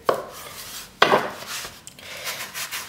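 A knife cuts through Chinese ravioli dough on a work surface, giving two sharp close contacts about a second apart followed by softer scraping and rubbing.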